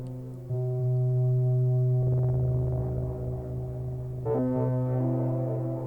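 A Moog Mother-32 synthesizer holds a sustained tone droning in low, buzzy harmonics, its timbre shifting and brightening at a couple of points as the filter modulation is increased.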